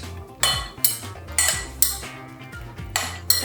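Strawberries tossed in a bowl for no-bake vegan cheesecake bars, with repeated clinking utensil scrapes against the dish in bursts roughly every half second, close and fairly loud, no talking.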